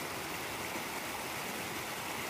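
Water flowing steadily through a pool in Tonto Creek, a continuous broadband rushing and gurgling heard up close with no voices.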